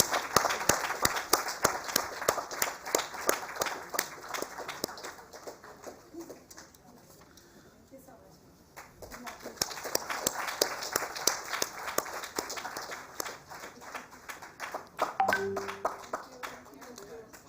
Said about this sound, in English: Thank you everyone for giving your round of applause to this first part of the award ceremony